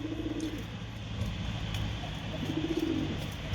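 Pigeons cooing on a terrace, repeated low throaty coos from nearby birds with a rolling rhythm, over a constant outdoor background hum.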